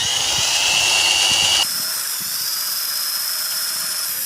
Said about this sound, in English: I'm drilling with a 5mm.